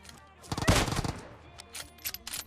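Gunfire in the battle royale game PUBG, a Kar98 rifle setting off a loud shot with a ringing tail, then scattered quieter shots further off.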